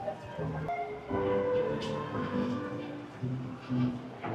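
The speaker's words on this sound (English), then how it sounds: "Oh, that train. There's one in the station." A Disneyland train sits in the station, giving a steady rumbling drone with sustained whistle-like tones and a brief brighter burst near the start, while crowd voices murmur in the background.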